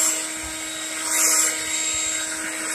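A leaf blower clearing grass clippings from a freshly mowed lawn gives a loud, continuous whine and rushing air, swelling briefly near the middle, with no talking.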